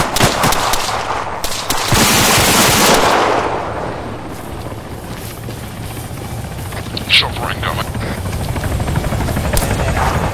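A helicopter in the military shooter ArmA 3, its rotor drone loud and steady throughout, with bursts of gunfire, machine-gun fire and distant shots layered over it while a player calls out over the action.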